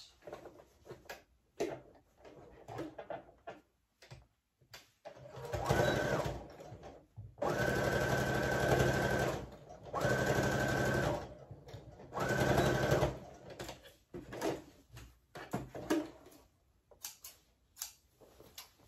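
A sewing machine top stitches a shirt being taken in from 3XL to small, running in several bursts of rapid stitching separated by short pauses and softer handling noises, close and clear.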